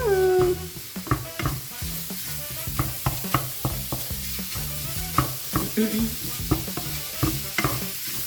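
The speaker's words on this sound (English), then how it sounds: "We'll also toast the chilies really nicely." Loud, steady sizzling as chilies toast in a hot wok, broken by repeated scraping and stirring strokes at an irregular rhythm, close up.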